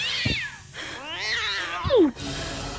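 Several cats meow and yowl in the horror game Ju-on The Grudge, overlapping cries rising and falling close and loud, with a brief soft thump beneath them.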